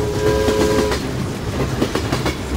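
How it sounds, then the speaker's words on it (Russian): A train rolls along rails in a horror video game, its steady clickety-clack rumble approaching with a short horn-like tone at the start, loud and continuous with no talk. "Походу, едет этот паровозик."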